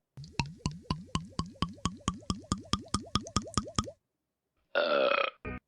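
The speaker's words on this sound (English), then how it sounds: "despite the fact that burps can be a bit gross, I might as well just give it a shot" A burping contest entry: a rapid run of about fifteen short, bubbly belch pulses close to the mic, then a pause and a brief noisy burst at the end.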